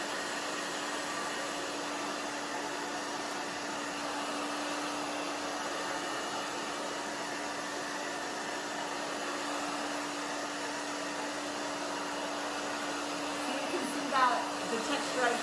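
Hair dryer blowing steadily and loudly on thick hair during a bob haircut, a continuous airy roar that holds throughout with a brief fluctuation near the end.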